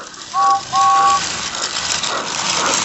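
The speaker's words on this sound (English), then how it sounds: "The guard's whistle blew and James snorted off." A guard's whistle sounds two short, shrill blasts, then a steam engine pulls away with a steady, loud, hissing rush that carries on to the end.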